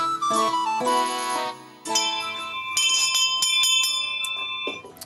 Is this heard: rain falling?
no